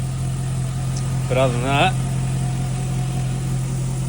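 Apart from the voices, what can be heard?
Holden Calais LS engine idling with exhaust leak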